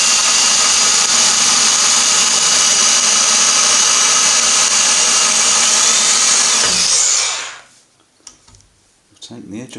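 A power drill bores into 10mm thick stainless steel plate for an outboard motor steering plate, a loud, steady high-pitched whine with grinding texture that runs for about seven seconds and then stops abruptly, leaving faint clicks and handling.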